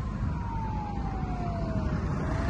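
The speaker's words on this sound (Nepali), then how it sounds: "एम्बुलेन्स पुरा दमकल सब रन्के तुई गर्दै होइन" An emergency siren wails on a city street near a zebra crossing, one long gliding tone sweeping slowly downward over steady traffic rumble, fairly distant and with no talk.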